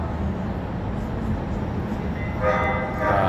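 A rail train pulls away along Main Street in Houston, Texas, with a continuous loud rumble and hiss of wheels, then a tonal horn-like whine near the end.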